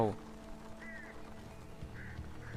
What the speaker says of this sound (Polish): To były chyba ptaki.